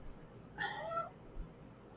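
A house cat gives a single short, clear meow near the middle, close by and alone against a quiet room.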